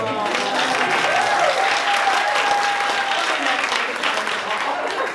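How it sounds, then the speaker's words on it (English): Applause from the audience at an entrepreneurship evening event, a steady, fairly loud burst of many hands clapping throughout, with a voice briefly audible beneath it. "can we just applaud?"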